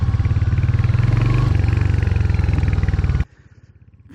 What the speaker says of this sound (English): how does it feel to ride the all-new Royal Enfield Hunter 350?